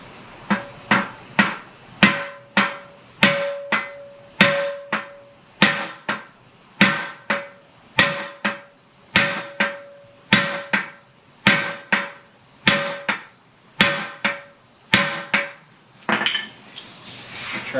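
A hammer strikes the nut on a drag link of an early Ford straight front axle, 1939-1948, in a steady series of about twenty sharp metallic taps, loud and close with a ringing tone, followed by a brief rustle.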